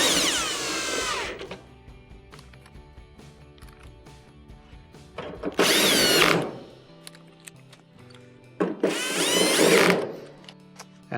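A power drill drives three screws into the back panel of a Whirlpool dryer, three loud bursts of whirring separated by quieter pauses with small clicks and handling noise, no voices.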